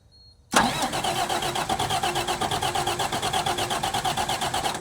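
A truck engine cranks when the key is turned, a sudden burst of rapid, rhythmic starter chugging that beats evenly and loudly for several seconds without catching.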